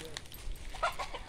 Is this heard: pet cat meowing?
no